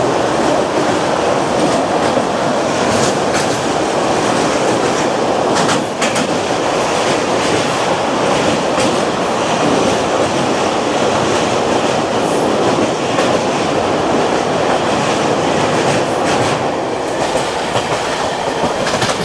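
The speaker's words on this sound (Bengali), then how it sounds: "ট্রেনটা চলে এসছে বিন্স জংশন" The Durgiana Express rolls into Beas Junction, wheels clattering in a steady rhythmic clickety-clack over rail joints, with a continuous loud rumble of coaches and occasional brief squeals, heard from inside the train.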